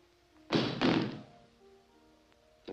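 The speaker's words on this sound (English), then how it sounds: "Drop that gun." A gun hits the ground in a 1954 black-and-white crime film, landing as two quick dull thunks close by, followed by quiet.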